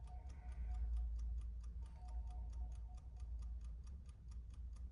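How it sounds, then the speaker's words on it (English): A clock ticks steadily at an even rhythm inside an auction setting in Japan, close and fairly quiet over a low background hum, with no talking. "Well, that's the clock."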